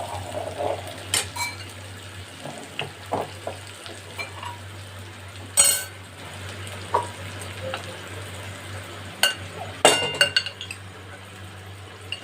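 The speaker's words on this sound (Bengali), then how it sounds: "এবার আমার ম্যারিনেট করে রাখা সোয়াবিনগুলো দিয়ে দেবো" Marinated soya chunks hit a pan of fried onion, capsicum and tomato, with soft sizzling under scattered clinks and scrapes of a spoon stirring against the pot, a few sharper knocks standing out.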